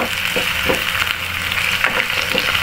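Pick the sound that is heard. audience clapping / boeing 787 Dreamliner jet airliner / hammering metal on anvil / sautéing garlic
sautéing garlic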